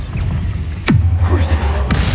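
A Bombarda blasting spell goes off in Hogwarts Legacy, a sharp burst followed by a deep, rumbling low boom that sustains, then a second crack near the end.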